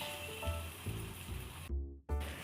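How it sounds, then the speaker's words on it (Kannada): Cooked dal being tipped into a pan of fenugreek greens: a close, soft sizzle broken by several wet plops and scraping thuds, with a brief silent gap partway through. "ಇವಾಗ ನಾನಿವಾಗ ದಾಲ್ ಇದಕ್ಕೆ ಸೇರಿಸ್ತಾ ಇದ್ದೀನಿ"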